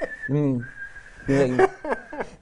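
A voice imitates the high, shrill whistling of a faulty hearing aid in a sustained squeal, broken by short vocal hoots and squeaks.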